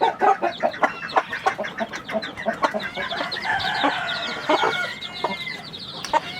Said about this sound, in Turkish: Sarı civcivler.